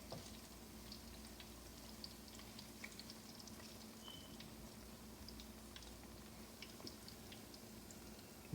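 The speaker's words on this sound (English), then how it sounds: "we're gonna let it fry" Plantain slices fry in hot oil in a home kitchen, giving a steady, quiet bubbling sizzle with faint scattered crackles throughout and no talking.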